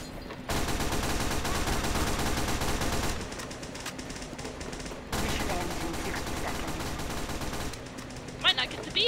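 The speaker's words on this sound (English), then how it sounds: "attack with a machine gun" Machine gun fire in Team Fortress 2, a long continuous rattling stream of rapid shots, loud and close, pausing briefly before resuming amid game noise, with a voice talking near the end.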